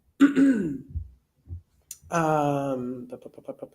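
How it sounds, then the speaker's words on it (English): A person clears their throat and gives a short cough, followed by a drawn-out strained vocal sound and a few more short rough bursts. "I occasionally still have a cough. I apologize, you guys."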